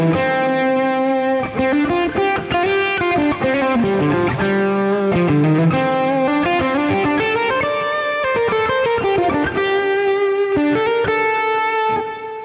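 A distorted electric guitar through a HeadRush MX5 amp modeler plays a sustained, singing lead line with bends and legato runs, loud and alone with no talking.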